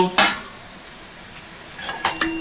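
Spoon clinks and scrapes against a pot while bottle gourd curry with onions is stirred, two sharp metallic knocks at the start and another cluster of scraping clinks near the end, otherwise quiet.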